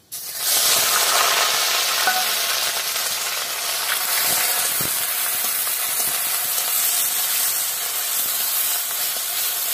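Grated onion fries in a pan, giving a loud, close, continuous sizzle and hiss that starts abruptly and holds steady with faint crackles and stirring scrapes, with no voices.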